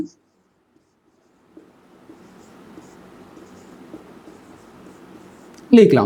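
Pen or pencil writing fractions by hand on paper during a maths lesson, a soft continuous scratching of strokes lasting several seconds, close and quiet, ending in a brief louder burst.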